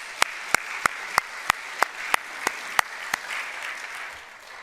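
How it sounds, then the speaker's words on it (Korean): A church congregation gives a short round of applause: a dozen or so evenly spaced, sharp claps ring out over about three seconds, then fade to quiet room tone. "우리가 후원하는 마음으로 따뜻한 박수를 한번 크게 보내시기 바랍니다"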